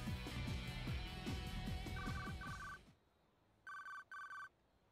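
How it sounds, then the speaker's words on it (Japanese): A mobile phone rings in the video game 428 Shibuya Scramble: after music fades out, a few short electronic ring bursts sound twice, close and clear over a quiet background. "携帯電話が鳴った。"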